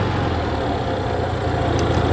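Military M274 Mechanical Mule utility vehicle in first gear low, its small engine running in a steady, moderately loud low drone, close by and uninterrupted.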